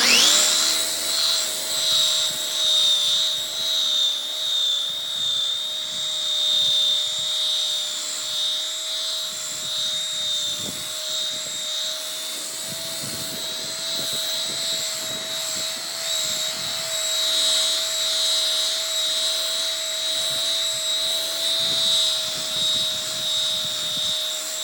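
Rotary polisher buffing brush-on single-stage car paint with ultra polish, a steady high-pitched motor whine with a constant tone that drones on without a break, loud and close, no voices.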